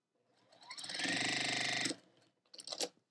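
A sewing machine stitching quilt fabric for a sampler block: a soft start rises into a steady fast whirring run of about a second, then stops, followed by a short second burst.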